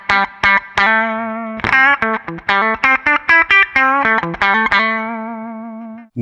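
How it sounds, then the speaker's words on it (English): Compressed electric guitar played through a Line 6 Helix, with squashed pick attack and a run of short picked notes and chords with sustained tails, loud and alone without any talk. "now we're hearing what a compressor does"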